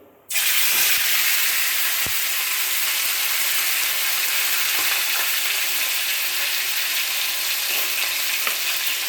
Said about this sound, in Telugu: అంతలోపు ఈ పక్క మనం పెనం పెట్టుకొని అందులో చికెన్, బాయిల్ అయిన చికెన్ని ఫ్రై చేసుకుందామండి